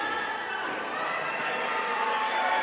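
Crowd at a small-town pro wrestling show in Honey Grove, Texas, cheering and shouting in a steady, roomy roar that swells slightly toward the end, with children's voices mixed in.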